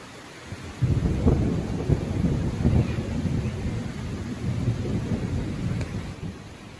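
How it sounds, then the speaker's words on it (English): A thunderstorm with heavy rain over a small one-room cabin: a deep rolling thunder rumble swells and lingers beneath a steady, loud hiss of rainfall, with no one talking. "It wasn't long before the storms reached us."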